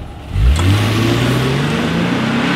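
A 2019 Lexus IS 300 F Sport V6 accelerates hard, its engine note rising steadily in a loud, close, continuous climb after a brief quieter start.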